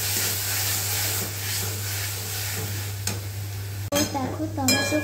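Tomato with dried and green chillies being stir-fried in a pan for Bombay duck curry, a steady sizzle over low hum, then a few scraping and clinking strokes of a spoon near the end.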